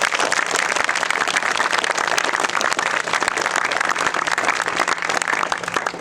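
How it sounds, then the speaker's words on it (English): Loud, sustained round of applause for the school captains at a Year 12 graduation ceremony, a thick continuous wash of many hands clapping for about six seconds with no talk over it. "I think our school captains deserve another round of applause"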